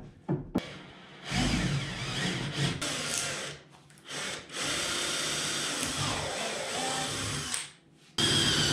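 A power drill bores a hole, whirring close and loud in several bursts of varying length with short pauses and pitch shifts as it bites, then a final steady run; no talking.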